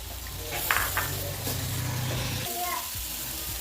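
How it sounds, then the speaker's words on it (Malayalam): Half a cup of water hits a hot pan of beetroot and bursts into a loud hiss that settles into steady sizzling and bubbling for a few seconds. "അരക്കപ്പ് വെള്ളം ഒഴിച്ചെടുക്കാം വേവാൻ."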